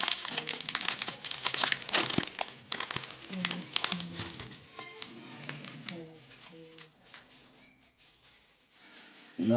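Crinkly foil of a Pokémon card booster pack tearing and crumpling up close, a busy burst of rustling and ripping that tapers into softer handling with speech in the background.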